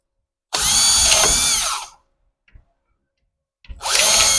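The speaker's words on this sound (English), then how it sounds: "Neither one of them holes I just drilled is in the right spot." Power drill boring holes into wood for a chick brooder box: two loud, close whirring bursts, the first about a second and a half before winding down, the second starting near the end, with faint clicks between.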